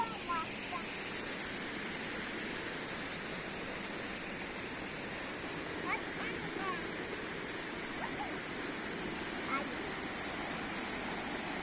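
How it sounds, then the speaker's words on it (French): A small waterfall splashes in a continuous, broad rushing hiss at close to moderate distance, steady throughout with faint scattered knocks and movement on top. "Il y a la cascade, une petite cascade là."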